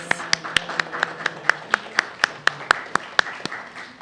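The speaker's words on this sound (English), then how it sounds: "One more round of applause." An audience at a poetry reading claps in steady, sharp beats, a small group applauding in a quick, even rhythm at close range.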